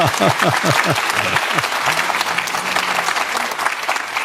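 Audience applause at a live digital talk show broadcast, a sustained burst of clapping from the studio crowd with a few sharp voiced interjections at the start, steady and fairly loud throughout.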